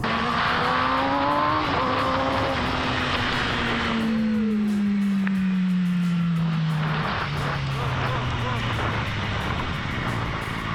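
A car rolls on without stopping after its brakes went unpumped: steady engine and road noise with a long falling whine as it slows, a voice talking over it throughout.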